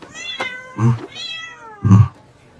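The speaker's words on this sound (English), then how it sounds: "Sir, we found a cat inside your son's backpack." A cat meows from inside a backpack, three drawn-out plaintive cries spaced across the moment, close and clear against quiet.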